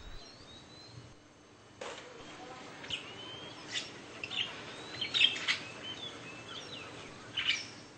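Several small birds chirp and tweet in short, scattered calls over a soft outdoor background, with a few brighter calls standing out near the end.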